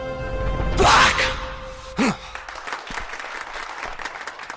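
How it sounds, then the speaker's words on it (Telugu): A short burst of clapping and cheering from a group, rising quickly and fading within a couple of seconds, followed by quieter murmuring. "వాళ్ళందరూ చప్పట్లు కొడుతున్నారు"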